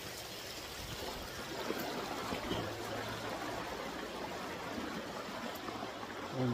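Water rushes and babbles steadily along a stream, a constant close flowing wash with no voices.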